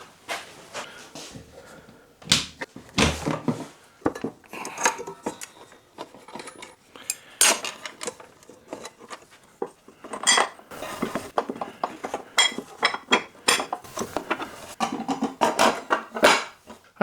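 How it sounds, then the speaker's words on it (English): Metal parts clink and clatter as a riving knife is removed and a grooving blade fitted on a woodworking saw, sparse sharp knocks and rattles at close range, no voices. "So now we're going to take the riving knife off and fit the grooving blade"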